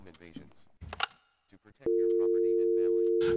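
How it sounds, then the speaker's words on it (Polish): A steady electronic telephone tone drones from a cut phone line in a horror video game, starting abruptly after brief speech and holding loud and unbroken to the end, with a voice cutting in at the close. "Po prostu linia jest chyba zerwana telefoniczna, dlatego nie możemy zadzwonić"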